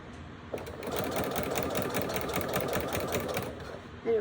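A sewing machine stitches fabric for a no-pattern, nap-style Kentucky Derby dress, running in a steady, rapid mechanical chatter for several seconds before stopping, with a brief voice near the end.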